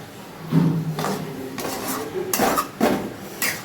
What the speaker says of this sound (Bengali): এবার ধীরে ধীরে একটু নাড়াচাড়া করব